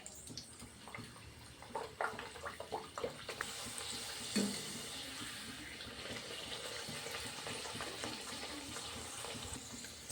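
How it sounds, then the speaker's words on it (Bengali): Palm fruit luchi (puri) fry in hot oil, a steady close hiss and bubbling that swells after a few soft clinks and knocks. "একই পদ্ধতিতে আমি সব কটা ভেজে নিচ্ছি"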